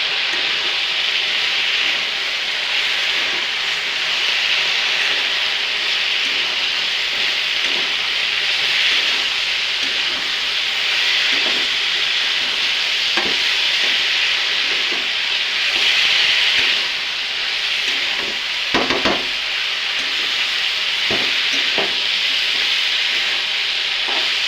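Potato bhujia fries with green chillies, turmeric and chilli powder in a pan, a continuous close sizzle with intermittent stirring scrapes and clinks over its length.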